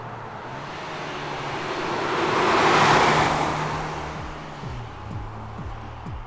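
Tire noise inside a 2025 Ford Maverick Tremor on the move: a steady broadband roar that swells and fades over a few seconds, with a low hum beneath and a few faint rising tones toward the end.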